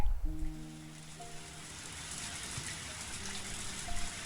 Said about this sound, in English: I didn't think it would rain so hard